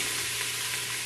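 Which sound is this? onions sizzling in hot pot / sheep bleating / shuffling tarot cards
onions sizzling in hot pot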